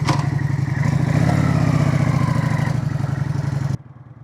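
A Kawasaki VN900 Custom cruiser motorcycle rumbles with a loud, pulsing engine as it rides off, the throbbing note running steadily before cutting sharply to a faint idle-like murmur.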